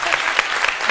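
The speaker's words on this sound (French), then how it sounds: "On l'applaudit très fort." A brief burst of steady, fairly loud applause from a television studio audience on a midday chronicle show, many hands clapping together in a dense wash.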